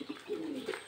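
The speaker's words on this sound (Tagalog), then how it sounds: "Ito yung aming mga kalapati" Backyard pigeons give a short, soft coo, a brief close throaty call that rises and falls over under a second.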